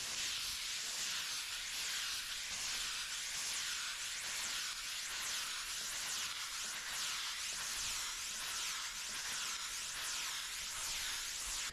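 A steam cleaner working over the seats of a dirty work truck gives a continuous close, bright hiss of jetting steam, steady and unbroken for the whole stretch with no talking.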